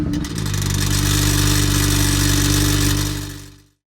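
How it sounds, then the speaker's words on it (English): A BMW E92 335i exhaust on a cold start gives a loud, steady mechanical drone with a buzzing rattle for a few seconds, then cuts off abruptly. "it has a very loud rattle from the exhaust. You hear it when you start the car"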